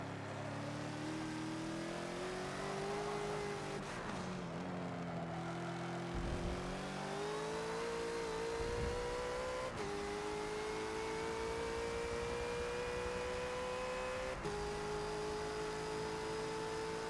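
Bentley GT3 race car engine at Sebring in a Forza racing game, a steady high-pitched drone that climbs through the gears with brief dips at upshifts, continuous and loud with no talk.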